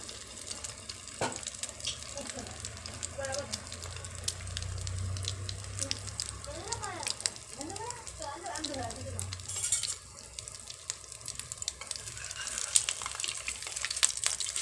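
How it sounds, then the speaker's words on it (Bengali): A slice of bread dipped in batter goes into hot oil in a kadai and fries with a soft, continuous sizzle, broken by stirring clinks and brief splashy crackles, with a voice talking quietly at times. "তেলটা গরম হয়ে গেছে, এবার আমি এতে পাউরুটিটা দিয়ে দেবো এভাবে ডুবিয়ে।"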